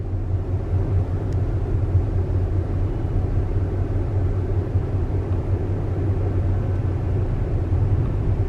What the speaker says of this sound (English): I think that's an airplane making all that noise.